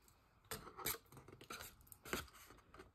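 Scissors snipping paper for a Valentine's camera box craft, a few quiet crisp cuts in short bursts close by, with faint rustling between them.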